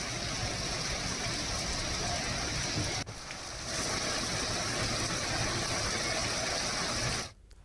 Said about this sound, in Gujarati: અંબાજીમાં ધીમી ધારે વરસાદ શરૂ થયો